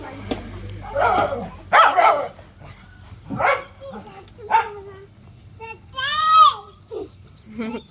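A dog barks and yips several times in short bursts, close by, with a voice talking in between.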